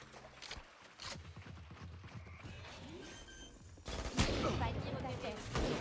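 Rapid gunfire in a shooter video game, bursts of close shots and clattering rounds with faint footsteps, building to a louder burst near the end, a voice speaking over part of it.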